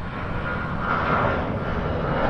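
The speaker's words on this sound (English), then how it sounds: "Nice plane takeoff there." EVA Air airliner taking off near the Keelung River waterfront in Taipei, a steady, loud broadband jet engine roar that holds evenly throughout with no talk over it.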